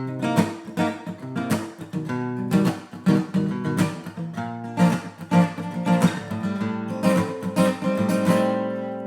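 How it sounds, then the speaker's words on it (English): A song's chorus on guitar, chords stepping down chromatically in steady strummed hits, full and bright with sustained ringing between attacks, fairly loud and close with no voices. "It's got this really cool kind of chromatic descending thing that sounds like this."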